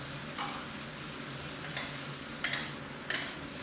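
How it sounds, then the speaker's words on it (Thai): Canned fish in sauce stir-fried in a hot pan gives a soft, steady sizzle. Several sharp clacks from the spatula scraping and tossing come near the end, and no voice is heard. "ผัดคลุกเคล้าสักนิดนึงก่อนครับให้โดนความร้อนก่อนครับ ระวังชิ้นปลาแตกนะครับ"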